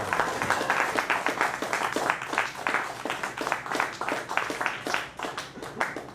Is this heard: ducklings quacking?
no